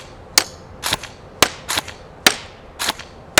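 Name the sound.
Matrix Sportsline G3 M4 airsoft rifle firing shots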